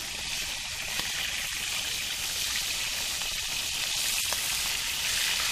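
Fish frying in a large pan over a wood fire, a steady, dense sizzle with faint crackles running continuously at close range, no voices.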